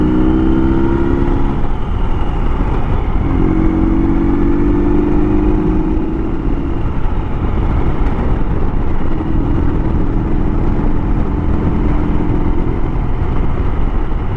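A Ural Retro sidecar motorcycle rides down a road, its engine a steady droning hum with wind noise, shifting in pitch as it accelerates, continuous and close throughout.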